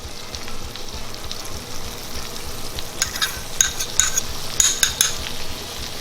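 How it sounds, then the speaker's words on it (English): Sauce with butter and freshly added cornstarch stirred in a hot pan for poutine gravy, a steady sizzle with a few scraping spoon strokes toward the end. "Give it a little bit of a quick stir. We're going to add our cornstarch."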